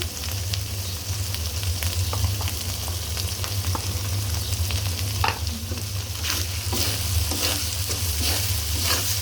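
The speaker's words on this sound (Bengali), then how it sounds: "আর 5 থেকে 6 মিনিট নাড়াচাড়া করব।" Spices with ginger, garlic and homemade garam masala sizzle and fry in a pan under repeated stirring, a constant hiss with intermittent scraping strokes of the spoon, close and without talk.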